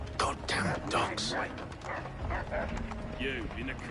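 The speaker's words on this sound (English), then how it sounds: "Goddamn dogs." Dogs bark amid the busy soundscape of the Assassin's Creed 3 video game, with yips mixed into shouting voices and mechanical clatter throughout.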